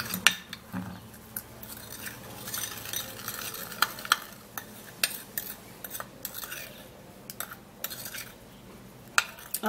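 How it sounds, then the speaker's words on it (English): A Colgate toothpaste mixture is mashed in a container, giving soft, quiet scraping and squishing with frequent small clinks and taps from the utensil at an irregular pace, with no voices. "I just squeeze in the Colgate. Then I'll have to try to mash it up."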